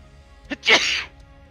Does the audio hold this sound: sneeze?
yes